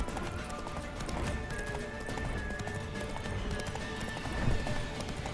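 Steady clip-clop of a horse galloping in The Witcher 3, continuous and fairly close throughout, with a brief whinny-like rise near the end and a few faint voice sounds mixed into the game audio.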